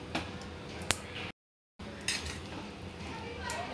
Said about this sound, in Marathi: व्यवस्थित हलवून घेऊया